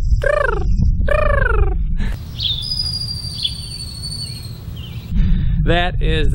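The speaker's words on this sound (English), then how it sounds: "that is the sound of the ground squirrel's warning call" Ground squirrel warning calls: sharp, repeated rising chirps in short bursts, loud and near, broken by a stretch of rustling noise with a thin high whine, then more chirping at the end.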